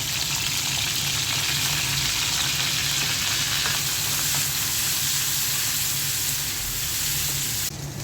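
Onions fry in hot oil with a dense, steady sizzle that keeps up at an even loudness from start to finish, close and clear.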